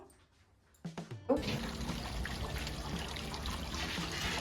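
A small decorative home waterfall fountain starts up after a brief quiet knock, then water trickles and splashes continuously, a steady close patter that stays even to the end.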